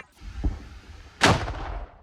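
A single heavy gunshot booms out and rolls away into a long echo, preceded by a fainter distant thud.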